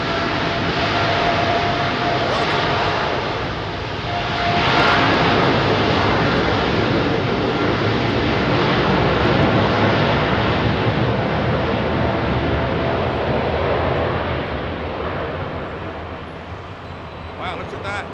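A heavy jet airliner departs Heathrow with a broad, loud roar that builds, holds strong for several seconds, then slowly fades, while people talk over it.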